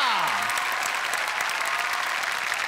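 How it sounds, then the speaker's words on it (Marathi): Loud, steady applause from a studio audience on a Marathi comedy show, dense clapping filling the whole stretch without a break. "जोरदार टाळ्या"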